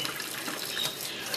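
Water runs steadily from a faucet into a sink where an Indian Ringneck parakeet is bathing. The hiss of the stream is constant and close, and no bird calls or voices can be heard.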